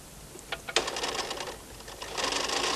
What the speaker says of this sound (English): Take the carriage back across the knitting and you will knit a row